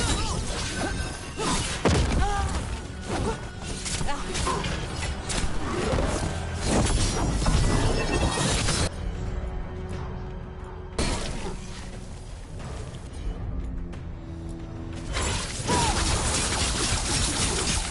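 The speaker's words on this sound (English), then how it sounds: "We've got mortars." Heavy impacts and crashing blasts from mortar fire in Dragon Age: The Veilguard, loud and dense, with a booming burst near the start and another later, layered over battle noise and music.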